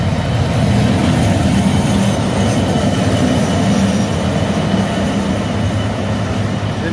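A railway locomotive rolls past on the track, a loud, continuous heavy rumble with grinding wheel noise and faint rhythmic clatter, close and sustained throughout, with no voices.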